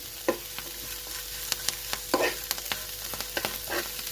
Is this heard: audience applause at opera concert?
no